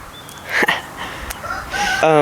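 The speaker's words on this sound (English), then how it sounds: "I can hear the crows not the crows, the rooster" A rooster crows at a distance, its call rising near the end, mixed with faint background noise and scattered sounds.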